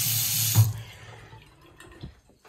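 A bathroom sink tap in a renovated hotel room at the Hyatt Regency Pittsburgh International Airport gushes loudly for about half a second, then cuts off, leaving faint drips and small knocks in a quiet room.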